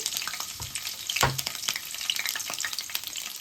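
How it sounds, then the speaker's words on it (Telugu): Chopped green chillies fry in hot oil in a kadai, a dense close crackling sizzle with a few sharp spatters and stirring knocks, with no voices. "మనం కట్ చేసుకున్న పచ్చిమిరపకాయలు వేసుకోవాలి."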